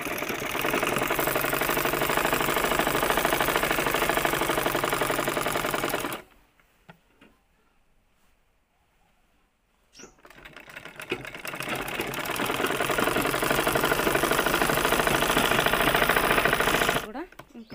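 An electric sewing machine stitches a dress in fast, loud rattling runs, stopping for about four seconds before starting up again for another long burst and a brief final spurt.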